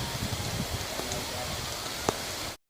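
Rain falls steadily around old great house ruins and former slave quarters, a soft continuous patter with a few faint knocks, fairly quiet, cutting out briefly at the very end.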